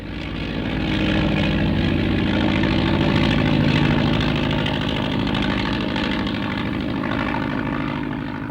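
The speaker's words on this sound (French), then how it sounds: "l'avion repart de nouveau à pleine balle, moteur à fond" Propeller airplane engine at full throttle for takeoff, a loud, sustained droning roar with steady propeller beating that swells slightly and holds for several seconds, close by.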